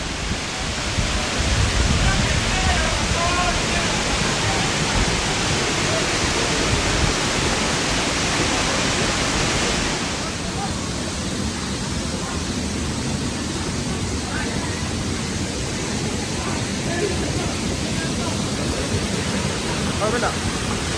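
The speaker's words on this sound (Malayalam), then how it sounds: "വെള്ളച്ചാട്ടം" The Pampanal waterfall roars in a dense, steady rush of falling water that fills the clip at close range, easing slightly in loudness partway through.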